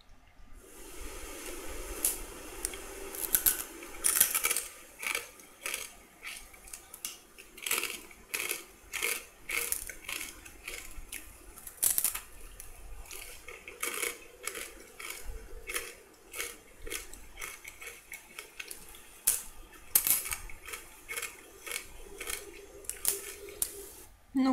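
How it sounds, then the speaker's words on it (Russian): Homemade Indian jalebi is bitten and chewed close up, with repeated sharp crisp crunches in an irregular rhythm that are fairly quiet overall, with no talking. "я буду пробовать, а вы будете слушать хруст."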